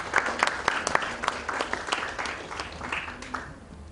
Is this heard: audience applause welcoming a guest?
yes